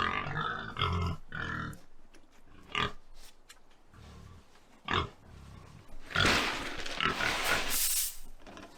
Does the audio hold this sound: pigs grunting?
yes